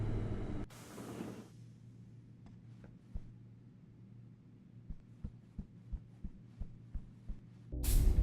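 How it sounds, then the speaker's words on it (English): Long elevator ride in Deus Ex: Human Revolution: a steady low mechanical hum drones for several seconds after a whooshing start, with faint soft thumps ticking in a slow, regular rhythm before another swell at the end. "This game has a common theme of long elevator rides."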